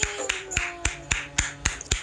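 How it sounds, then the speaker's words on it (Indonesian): A single person claps hands at a steady, even pace, about eight crisp, close claps over two seconds, with a faint tonal hum underneath. "saya tepuk tangan lagi"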